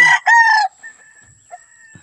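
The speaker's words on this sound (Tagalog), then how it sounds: "So lahat po ng manok natin nandiyan sa flying pen." Chickens and roosters in a flying pen: a loud nearby rooster crow in two bursts, followed by faint distant clucks and a thin steady tone.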